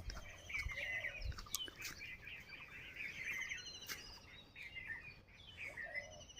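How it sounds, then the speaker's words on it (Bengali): Many different birds chirp and twitter together on a village morning, a steady layered chorus of thin, high calls at moderate distance with no talking. "বিভিন্ন রকম পাখি ডাকতেছে কিচিরমিচির শব্দ হচ্ছে"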